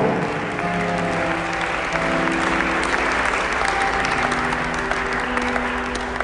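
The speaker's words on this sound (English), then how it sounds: "let's clap our hands to the Lord all over this sanctuary" A congregation applauds in a church sanctuary, loud, sustained clapping filling the room over a held organ or keyboard chord and sustained tones, with a few voices blended into the crowd.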